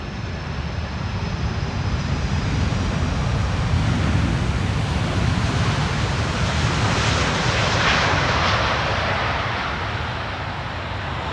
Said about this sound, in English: Come on, spool up those reversers, you know you want to.